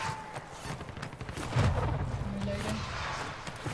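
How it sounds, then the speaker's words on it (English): Gunfire in the video game Warzone during a zombie battle royale mode, a dense barrage of distant shots and booms rumbling continuously with a heavier blast midway, no talk. "People shooting at me."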